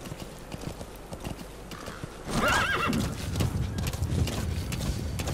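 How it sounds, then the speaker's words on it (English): A horse in the Metal Gear Solid V video game whinnies loudly with a wavering neigh, then its hooves clip-clop steadily over a low ambient game backdrop. "Let's see what the horse is like."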